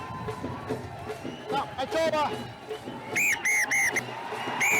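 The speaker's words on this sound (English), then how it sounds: "That's the final whistle." Referee's final whistle at a rugby union match, several short shrill blasts near the end, over crowd noise and a commentator talking.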